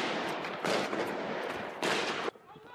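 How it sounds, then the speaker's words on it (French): Gunfire during the Charlie Hebdo attack heard from a nearby rooftop, two bursts of rapid, rattling shots fired inside a building, muffled and moderately loud, followed by quieter noise. "Une trentaine de coups de feu auraient été tirés à l'intérieur du bâtiment"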